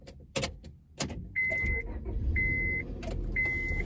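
A Honda Civic engine with about 700,000 miles cranks and catches, then settles into a steady idle with a faint supercharger whine. Repeated electronic chimes or beeps sound over the running engine, all close by.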